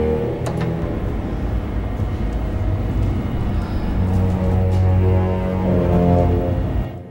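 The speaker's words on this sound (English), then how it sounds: "and down below we've got bassoons and contrabassoons." Bassoons and contrabassoons hold low, dark orchestral notes in a thick, sustained drone that swells slightly toward the end before cutting off.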